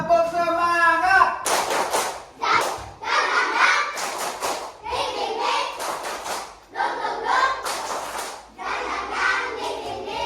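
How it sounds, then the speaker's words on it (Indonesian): A classroom of children doing a rhythmic group clap, with sharp bursts of hands clapping and chanting voices in patterned phrases, close and loud. "Tepuk semangat."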